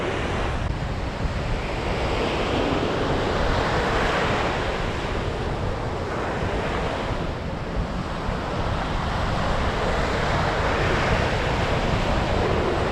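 Steady surf breaking on a North East Scotland shoreline over a sandbar, a continuous loud wash with periodic swells and some wind buffeting, no voices.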